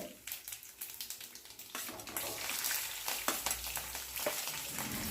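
Green chilies and onions hit hot oil in a pan with dried red chilies, mustard seeds and cumin for carrot rice, sizzling loudly and steadily throughout with occasional crackles and stirring scrapes; no talking.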